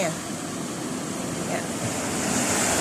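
Sea waves wash against the shore in a steady, dense roar of surf, with wind noise buffeting the microphone throughout and no distinct breaks between swells.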